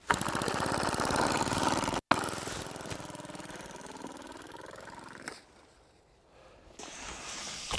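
A homemade pneumatic diaphragm engine runs on a lightweight model plane in cold air, a rough, rapid mechanical chatter that cuts out briefly, carries on, then drops away before picking back up near the end.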